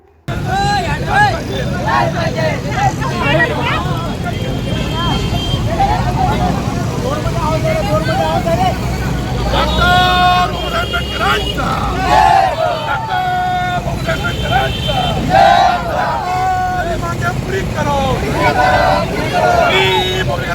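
Road traffic jammed at a busy chowk during a sanitation workers' road-block protest, a steady dense rumble of engines and horn bursts under crowd babble and voices throughout.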